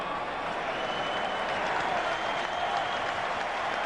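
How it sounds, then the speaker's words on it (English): Steady roar of a large stadium crowd cheering and applauding at a Rugby World Cup 2003 match between Georgia and South Africa, a dense continuous wash of noise with faint commentary underneath. "Biggest cheer of the night so far."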